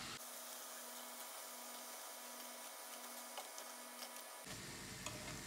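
Pieces of mafiş dough fry in hot oil, giving a steady broadband sizzle close up with no talk, then a brief shift near the end as the pieces are lifted out.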